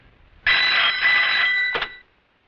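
A telephone rings at a police station, a single sustained electronic ring burst lasting over a second followed by a short second pulse, loud and close, with no talking.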